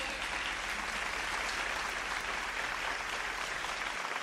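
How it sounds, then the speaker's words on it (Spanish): A crowd at a live Christian salsa concert in Colombia claps loudly and continuously, a dense wash of applause filling the whole stretch. "Denle un fuerte aplauso"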